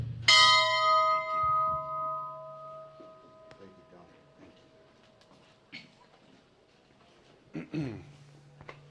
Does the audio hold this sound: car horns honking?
no